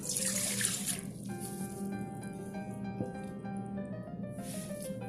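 Water runs steadily into a bowl of flour and salt while pastry dough for Russian-style savory pies is being mixed, a continuous close trickle with no talking.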